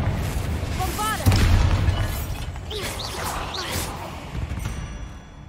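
A Bombarda spell explosion in Hogwarts Legacy lands as a sharp, loud boom early on, followed by swirling magical whooshes and crackling effects over a busy game background.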